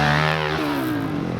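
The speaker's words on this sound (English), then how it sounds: "This thing sounds good with those Yoshi pipes." A dirt bike fitted with Yoshimura exhaust pipes gives a short, loud rev nearby, the raspy engine note falling as the throttle closes.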